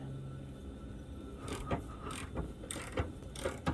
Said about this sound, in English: I'm going to let the lift down a little bit